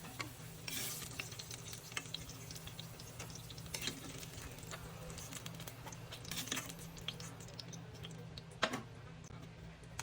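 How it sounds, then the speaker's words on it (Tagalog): Potatoes fry in a pan for pork adobo, a quiet, continuous sizzle with scattered ticks and scraping stirs under the hiss, and no one talking. "Painitin natin yung pan at ipirito natin ang potato natin."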